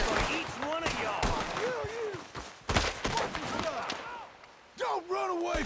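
Gunfire in the Red Dead Redemption 2 video game, with repeated loud sharp shots cracking out at uneven intervals amid a chaotic gunfight, while voices shout over the shooting.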